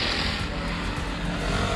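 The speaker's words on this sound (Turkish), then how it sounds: "Videoyu açtım diye mi bu kadar gürültülü araba geçiyor?" A loud car passes along a street, its engine roaring as a steady, close, noisy drone through the whole moment, with no talking over it.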